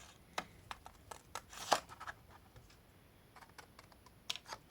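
Scissors snip through a paper gift box in a series of short, crisp cuts of varying loudness, close up and with no talking.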